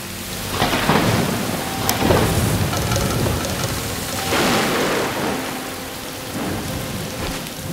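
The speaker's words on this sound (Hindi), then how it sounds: "बारिश बहुत तेज हो गए।" Heavy rain pours steadily while several rolling thunder cracks break through, loud and close, with no voices over the storm.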